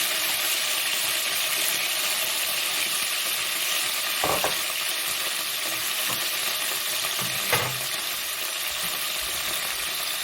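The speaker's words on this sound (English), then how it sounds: "And add my onions to the pan." Onions sizzle and crackle steadily in a hot pan, with a dense, even hiss throughout and a couple of brief stirring scrapes.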